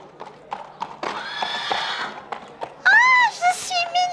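Cavalry horses in a children's cartoon, hooves clip-clopping in a steady run with neighing and whinnies rising toward the end, loud and close under music.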